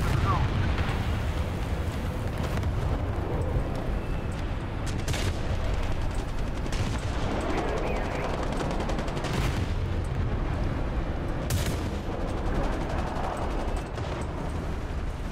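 Tank gunfire in a War Thunder battle featuring the Swedish CV 90105, with repeated sharp cannon blasts and bursts over a constant rumble of battle noise, and voices talking throughout.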